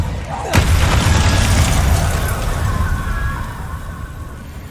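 Incendio fire spell cast in Hogwarts Legacy, a sudden loud whooshing burst of flame followed by a roaring rumble that slowly fades, heard close and alone.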